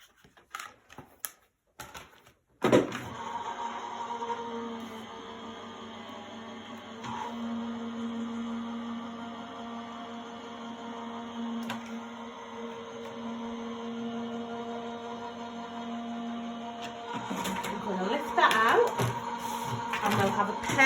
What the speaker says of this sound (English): And then we're going to run that through our die cutting machine.